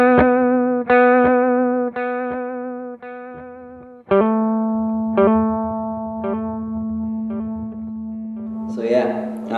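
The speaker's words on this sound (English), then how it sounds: "There's delay sounds, which goes up to obviously really short delays" A Marshall AVT 100 guitar amp plays repeated picked notes and chords through delay and chorus effects, each attack trailing shimmering echoes, ending in a brief distorted burst.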